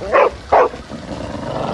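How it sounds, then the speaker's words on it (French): A dog growls and snarls in two short, loud, close bursts, followed by a fainter rumbling murmur, with no one speaking. "Son chien grogne après lui."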